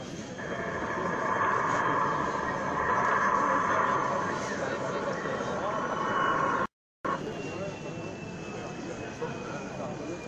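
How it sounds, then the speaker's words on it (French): Steady droning engine hum of a model Canadair water-bomber aircraft running close by at a scale model show, continuous with a brief cut partway through, under a constant whine. "un Canadair qui fonctionne pour du vrai"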